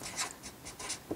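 Pen or pencil writing out maths working on paper, quick scratchy strokes in short bursts with brief pauses between them, close and fairly quiet.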